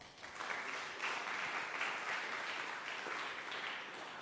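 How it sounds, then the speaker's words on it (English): Audience applause at an academic hydrogen metallurgy symposium, a dense, steady wash of many hands clapping at some distance, sustained evenly throughout without speech. "Please give applause"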